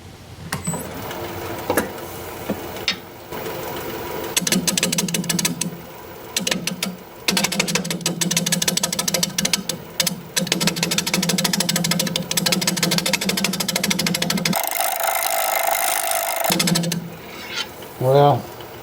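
A wood lathe turns at about 400 RPM with a steady mechanical hum and rattle that cuts in and out, along with bursts of tool chatter and a brief louder scrape near the end, close by.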